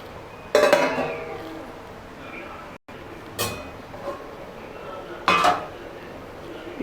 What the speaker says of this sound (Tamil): மிக்ஸ் பண்ணி விட்டுக்கோங்க. மூடி போட்டு வச்சுக்கலாம்.